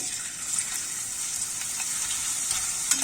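Potatoes drop into a pan of hot vegetable oil and fry with a bright, steady sizzle full of small crackles and pops, close and continuous, with no voices.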